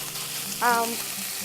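Shrimp frying in a pan give a steady, close sizzle lasting a moment, with a brief squeaky tone rising over it partway through.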